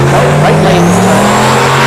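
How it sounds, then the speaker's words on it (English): Loud drag race launch at a test-and-tune night: a turbo LS-swapped Fox Body Mustang and a BMW 3 Series roar off the line together, steady engine howl with a brief tire chirp, no voices. "we got the Turbo LS Fox Body against the 3 Series Beamer"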